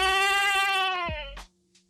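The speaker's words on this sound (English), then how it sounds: "all thanks to a simple goat." A goat gives one loud, close, wavering bleat that holds for over a second and then breaks off, followed by a short faint sound.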